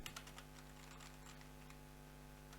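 Typing on a computer keyboard in a quiet indoor setting, a quick run of light plastic key clicks at close range with a steady low electrical hum underneath.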